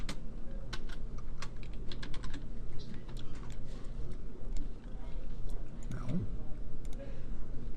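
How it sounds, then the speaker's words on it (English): Rapid clicking of computer keyboard keys at close range, a steady run of typing over a constant background hum. "I accidentally started typing stuff inside there."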